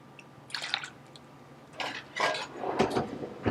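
Milk poured from a measuring cup into a bowl of biscuit baking mix, a few splashing, dripping bursts with light clinks of bowl and utensils.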